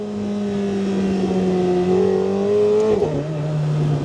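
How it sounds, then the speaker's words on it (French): A McLaren 750S engine drones steadily at high revs in sport mode, its pitch sliding slightly before dropping sharply around a gear shift, loud and continuous from inside or near the car. "Et ces craquements sur les changements en mode sport."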